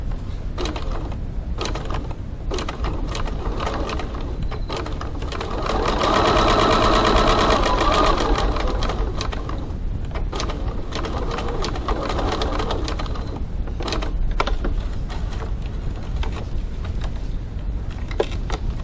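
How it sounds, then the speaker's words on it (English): A sewing machine top stitches card slot fabric at a 3.4 stitch length, a close, steady mechanical whirring and clatter that speeds up for a few seconds and then settles back into a continuous stitching rhythm, with no talking. "So now I'm going to top stitch on the top side of my bottom slot, only the bottom slot."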